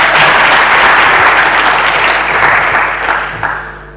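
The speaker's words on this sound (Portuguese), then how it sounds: "Salve a palmas para o João" Loud, close applause from a conference audience at an entrepreneurship event, a thick wash of clapping that stays strong for most of the clip and then tapers off at the end.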